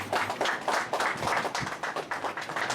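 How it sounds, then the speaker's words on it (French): Conference audience clapping, a brisk rhythmic run of hand claps at moderate volume, fairly close, with no talk over it. "J'espère qu'on peut applaudir s'il vous plaît."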